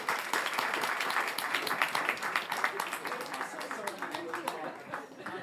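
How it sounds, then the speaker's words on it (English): An audience at a resilience panel event claps in sustained applause, dense overlapping claps at moderate level, gradually thinning toward the end, with faint voices mixed in. "Can we give them a round of applause?"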